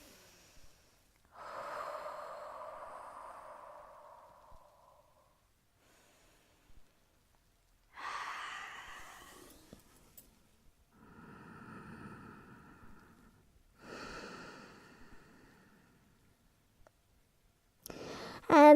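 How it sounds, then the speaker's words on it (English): Slow deep breaths taken during a yoga pose for core strength, several long inhales and exhales separated by quiet pauses, close and soft with a few nasal snorts and no speech. "So take some lovely deep breaths here."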